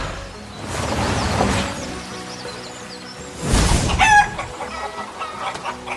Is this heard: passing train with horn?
no